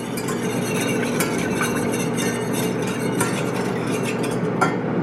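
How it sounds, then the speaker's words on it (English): Whisking sauce for homemade orange chicken, a steady rapid scraping and clinking of a whisk in a bowl, close and fairly loud, continuous without pauses. "We're gonna give that a little whisk."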